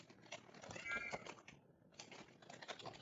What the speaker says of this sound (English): Please excuse the cat.